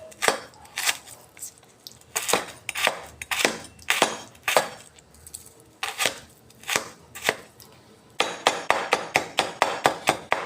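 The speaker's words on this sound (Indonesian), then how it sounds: "Ini bawang putih, bawang merahnya dicincang." A knife chops garlic and shallots on a cutting board in quick bursts of sharp, close knocks, pausing briefly between runs and ending in a faster flurry.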